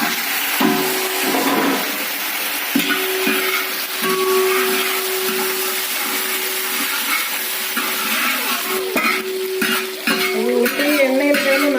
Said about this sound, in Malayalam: ഉള്ളി എണ്ണയിൽ ചേർന്ന് നന്നായിട്ട് വേണം